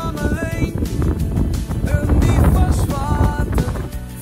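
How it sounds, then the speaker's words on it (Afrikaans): Wind gusts steadily across the microphone beside a fishing dam, a loud continuous rushing roar with no break, heard alone. "Jammer net vir die wind wat wil waai hier so."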